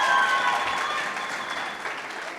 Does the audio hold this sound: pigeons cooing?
no